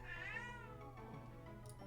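A cat gives one drawn-out meow with a rising and falling pitch, fairly close but quiet against a steady low hum.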